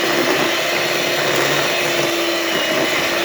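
An electric mixer whirs steadily at close range, beating no-bake cheesecake filling until smooth, a continuous loud motor hum with no talking.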